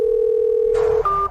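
A telephone dial tone after a call is hung up: a steady, loud electronic hum that breaks into a short higher tone near the end, with no voices.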